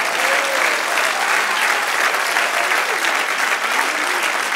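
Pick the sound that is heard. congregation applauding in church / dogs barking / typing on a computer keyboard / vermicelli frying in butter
congregation applauding in church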